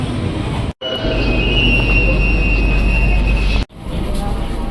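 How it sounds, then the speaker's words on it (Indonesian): Steady interior rumble and hum of a moving KRL INKA commuter train departing Pasar Minggu station, loud and continuous with a high electric whine, cut by two brief silent gaps. "kita sudah ada di KRL Inka"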